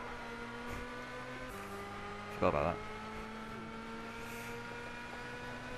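Race car engine in Gran Turismo 6 holds a steady harmonic drone with gear-shift steps, under brief talk and a short burst of louder sound midway.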